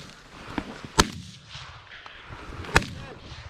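Two sharp, loud rifle shots fired during a goose hunt, about two seconds apart, each a close, cracking blast that fades quickly into outdoor quiet.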